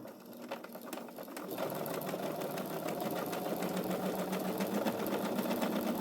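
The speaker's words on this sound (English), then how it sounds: "just go ahead and stitch the whole length of your seam binding" A sewing machine runs steadily through a long seam, stitching seam binding at a lengthened 4.0 stitch length on a fall quilt appliqué project; the motor's even whir and rapid needle clatter start softer and then hold constant and close.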